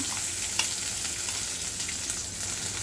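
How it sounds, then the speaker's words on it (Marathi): Onion and green chilies frying in a pan with cumin and ajwain, a steady close hiss of sizzling oil with a couple of faint utensil knocks. "आता त्याच्यामध्ये मी लगेच कांदा पण घालून घेणार आहे, हिरव्या मिरच्या"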